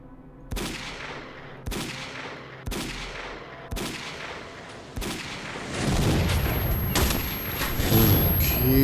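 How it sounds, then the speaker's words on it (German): Sniper rifle fire in S.T.A.L.K.E.R. Call of Pripyat: five loud, evenly spaced cracks about a second apart, each with a short decaying tail, followed by denser rumbling booms and a steady high tone. "habe ich dem gerade in die Schnauze geschossen"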